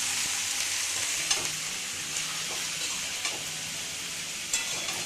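Sukto, a Bengali mixed-vegetable dish, sizzles steadily in a frying pan while being stirred before a fish head is added, with occasional soft scraping taps of the spatula over the constant frying hiss.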